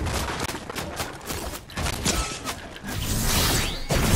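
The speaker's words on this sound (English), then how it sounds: "Wait, you're being shot." Gunfire in a shooter video game, rapid volleys of shots and clattering mechanical action in a dense, steady barrage across the whole stretch, with whooshing sweeps near the end.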